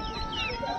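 Brief cluck or call from a chicken or rooster amid the murmur of a poultry market selling ducks, hens and roosters, a short faint burst under busy background noise.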